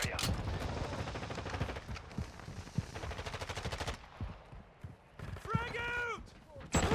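Rapid automatic gunfire in Call of Duty: Modern Warfare 2 with an EBR rifle, bursts of sharp close shots in quick rhythm, then quieter gaps with a few more shots and game sounds.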